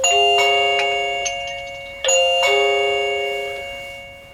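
An indoor chime unit for a Meco Eleverde dual-voltage 2K smart video doorbell, model J5, plays its second tune: two bright ringing chime phrases about two seconds apart, each sustaining and slowly fading, with no talking.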